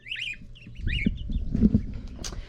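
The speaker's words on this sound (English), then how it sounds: "We have 10 chickens, 2 ducks and 2 geese and 1 turkey." Farm poultry flock of chickens, ducks, geese and a turkey: scattered clucks and calls with a higher chirping bird at the start, close by over low barnyard background, no talk.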